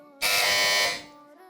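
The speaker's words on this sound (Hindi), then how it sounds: "इस बार सबसे पहले बज़र बजाई है टीम ए ने।" A team presses a quiz show buzzer, which blares a loud, harsh electronic tone for just under a second before it cuts off sharply.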